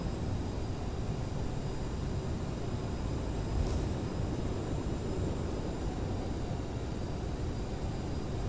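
Simulated roar of a CRJ regional airliner's thrust reversers during landing in a flight simulator: a steady, dense broadband engine rush that stays loud and unbroken throughout, with no voices.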